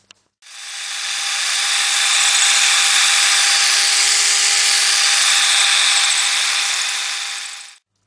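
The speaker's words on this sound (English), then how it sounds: "So I'm going to drill through here, make a hole so that it's even." A power drill bores through a metal electrode plate for a water fuel cell, a loud, steady high-pitched grinding whine that ramps up, holds for about seven seconds and then cuts off.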